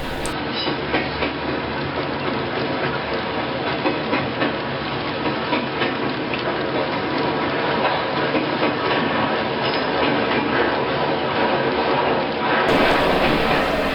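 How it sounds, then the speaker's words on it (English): A coal train rolls steadily past WM Tower and a salvage yard at West Mill, picking up speed, with a continuous loud rumble and rhythmic wheel clatter throughout and no voices. "The train picks up speed as it goes by WM Tower and the rusted automobiles in Sal's salvage yard"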